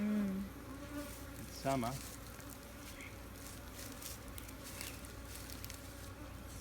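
Honey bees buzz in a steady, dense drone around an open hive being split by a novice beekeeper in summer, close and continuous, with a brief spoken remark over it.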